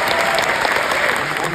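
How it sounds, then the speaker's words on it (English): Cinema audience applauding after a film screening, a dense, steady wash of clapping that fills the whole moment at close range. "can we have a round of applause for"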